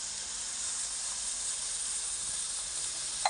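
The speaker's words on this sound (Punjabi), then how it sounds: "ਹੁਣ ਆਪਾਂ ਇਹਦੇ ਵਿੱਚ ਇੱਕ ਗਲਾਸ ਦੁੱਧ ਦਾ ਪਾ ਲੈਂਦੇ ਹਾਂ" Full-cream milk poured into carrots frying in a pan for gajar halwa gives a steady, loud broadband hiss and sizzle lasting throughout, with a brief bump at the very end and no talking.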